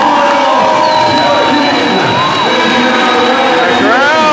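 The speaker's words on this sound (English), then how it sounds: "The crowd seemed to like it." A loud, dense crowd cheers and whoops at a Russian robot battle championship in 2023, the roar continuous and close throughout with scattered shouts rising above it.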